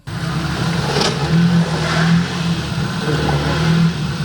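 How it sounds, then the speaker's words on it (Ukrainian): A car engine strains and revs while climbing a steep ice-covered street slope, a loud, close, sustained drone with rising and falling surges of throttle and no talking. "Водій цієї автівки справжній екстремал на мінімальній швидкості та з максимальною увагою він намагається приборкати крутий, вкритий льодом схил."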